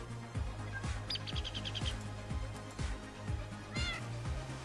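Cats in the video game Minecraft meow several times, mixed with bright bird chirps and a steady stream of soft rhythmic footstep thuds.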